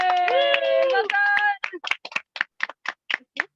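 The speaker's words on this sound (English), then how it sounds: "you just got a huge round of applause from the campsite here" People at a campsite clap in a short run of separate, fairly close hand claps after a voice speaks at the start.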